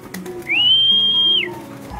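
A single sustained, steady whistle-like call from pigeons, close and clear, lasting about a second.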